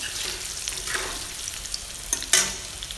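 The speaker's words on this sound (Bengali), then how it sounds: "আলুগুলি হলুদ আর লবণ দিয়ে ভালো করে লাল করে ভেজে নেব" Potatoes frying in hot oil with turmeric and salt, a steady close sizzle throughout with a sharper burst of crackle near the end as they are stirred.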